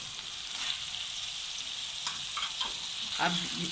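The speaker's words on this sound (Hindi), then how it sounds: "अब मैं इतनी देर भूनूंगी जब जितनी देर तक के कीमे का रंग चेंज ना हो जाएगा" Keema with boiled goat kidneys fries in a pan, a soft steady sizzle with a few stirring scrapes toward the end, fairly quiet and close.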